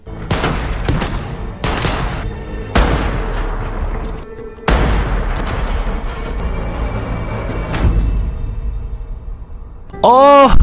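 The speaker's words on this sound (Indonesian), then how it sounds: "Tiba-tiba saja terdengar baku tembak di tepi jalan." Gunfire breaks out by a roadside in a film scene: a run of loud, broadband shots and crashes follows one another across the span, ending in a rising, ringing whine.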